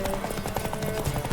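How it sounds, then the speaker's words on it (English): Galloping horse hooves during a horse race in the Witcher 3: Wild Hunt video game, a steady rapid clip-clop under game music and ambience, loud and continuous throughout. "Yeah, the horse racing."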